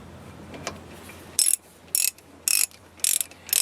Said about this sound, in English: we'll get our socket wrench here, which is the 13 millimeter